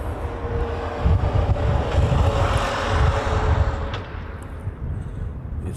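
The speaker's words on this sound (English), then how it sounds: "we also have a Southwest heading off to Maui on the Reef runway. It's on the roll" A Southwest Airlines jet rolls for takeoff on Honolulu's Reef runway, bound for Maui. Its engine roar swells from a distance, holds, then eases slightly, mixed with gusty wind buffeting the microphone.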